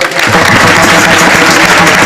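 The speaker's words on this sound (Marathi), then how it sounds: "एकदा टाळ्या वाजवा महाराजासाठी." An audience at a kirtan claps for the Maharaj, a loud, close, unbroken burst of applause filling the whole moment with no talking.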